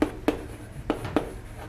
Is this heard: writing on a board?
yes